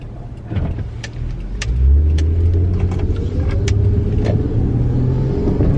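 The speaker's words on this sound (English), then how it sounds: "There's a car there." A car passes close by, its engine rumble swelling to a loud peak and then holding steady, with faint jangling clicks over it.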